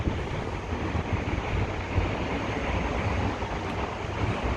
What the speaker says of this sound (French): Il y a du vent, ça fait du bien.